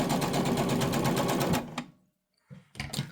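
A sewing machine runs a thread bunny through after a granny square quilt block, a loud close rapid stitching whir for about a second and a half, then stopping, followed by silence and a few brief handling knocks.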